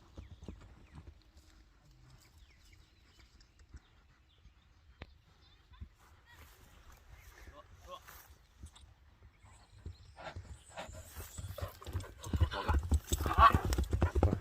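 A tall chestnut horse walks with steady clip-clopping hooves, faint at first and growing louder and closer toward the end, with scattered background sounds and occasional talk.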